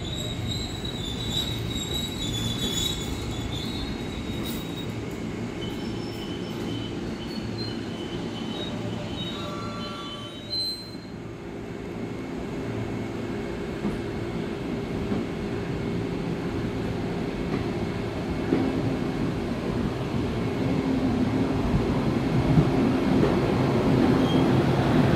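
A blue suite-compartment passenger train rolls through a busy Jakarta station, a steady loud rumble of wheels on rails with faint squeal, building slightly louder toward the end with no talk.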